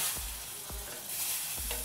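Roasted semolina being stirred into boiling water tinted with a pinch of lemon colour for pineapple shira: a steady wet hiss with a few soft low scrapes and thumps from the spoon, close by and with no talking.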